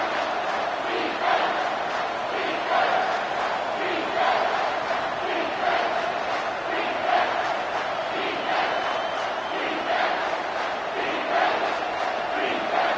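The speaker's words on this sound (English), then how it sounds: "Third down, and this crowd is tearing the lid off this place." College football stadium crowd roaring on third down at NC State versus Oklahoma, a sustained wall of shouting with rhythmic swells, heard from within the stands.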